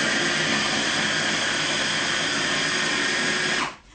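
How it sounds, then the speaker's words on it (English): A blender runs steadily on a batch of oats and other ingredients, a loud continuous whirring motor drone that holds for several seconds and then cuts off abruptly near the end. "That's why we're going to blend it a little"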